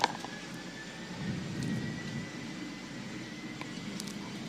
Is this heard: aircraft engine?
yes